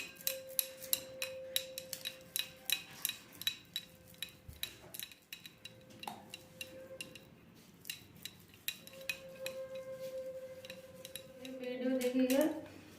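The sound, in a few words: grating boiled potato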